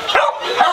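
Small chihuahuas in an outdoor shelter yard give two quick, close yips or barks, with a brief whimpering edge between them.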